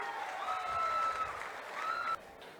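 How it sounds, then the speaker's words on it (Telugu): An audience at a government meeting claps to honour well-performing officials, a fairly quiet, steady patter of many hands that continues throughout and drops slightly near the end. "గట్టిగా చప్పట్లు కొట్టి అభినందించండి."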